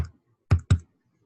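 Two quick sharp keystrokes on a computer keyboard, close and crisp, separated by a short gap, with a faint click at the very start and silence around them.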